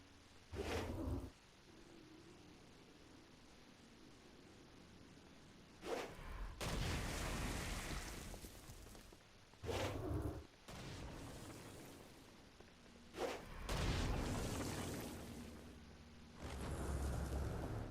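Explosions and blasts in the video game Saints Row: Gat out of Hell, several loud broadband bursts arriving at irregular intervals between quieter stretches of game ambience, with no talk.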